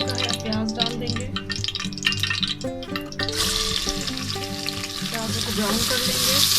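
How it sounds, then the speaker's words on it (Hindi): Onions drop into hot oil and fry, a hiss that swells louder and denser partway through, heard close under background music. "ऑयल गर्म हो चुका है, प्याज डाल देंगे"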